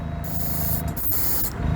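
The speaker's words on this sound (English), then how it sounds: "I will hit the blue, the inside, just so we can make sure that the gun is spraying okay" A paint spray gun test-spraying blue paint onto the interior of a Porsche in a custom build shop, giving a steady close hiss of atomized spray that runs for nearly two seconds without talk.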